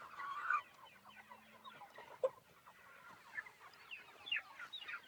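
Chickens on a meat chicken farm with chicken tractors cluck in a busy, overlapping chorus at close range, with scattered sharper squawks rising above the steady clucking throughout.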